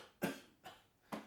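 Three short, sharp coughs, close and clear, separated by brief pauses, used to demonstrate a burst of air in a bass clarinet lesson on accents.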